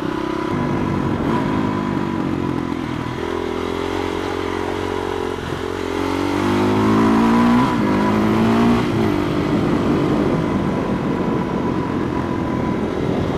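A supermoto motorcycle rides a nasty, bumpy road, its engine droning steadily and loudly throughout with rising and falling revs, alongside rattling and wind rush close to the rider.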